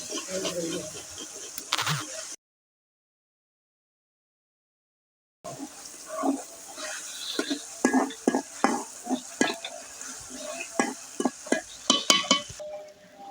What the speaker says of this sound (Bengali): রসুন বাটা দিয়ে আমি রসুনটা ভেজে নিচ্ছি